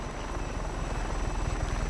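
A helicopter in Just Cause 3 thrums with rapid, even rotor thumps under a steady engine roar, loud and near throughout with no speech.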